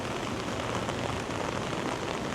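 Heavy rain pours down on a walk in downtown Toronto near Adelaide, a steady dense hiss of drops hitting surfaces all around, loud and continuous with no talking.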